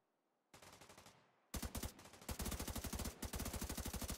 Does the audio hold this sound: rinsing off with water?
no